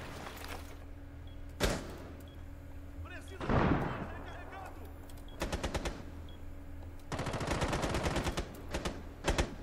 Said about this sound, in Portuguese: Aonde estão atirando, galera?